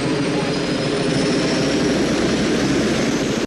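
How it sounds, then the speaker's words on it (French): Helicopter in the 1989 film No Holds Barred, a dense, loud, continuous rotor and engine roar filling the whole stretch. "il va se casser en hélico"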